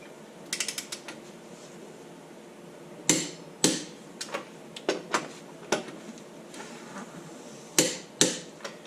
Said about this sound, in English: now you take your torque wrench, do that same cross pattern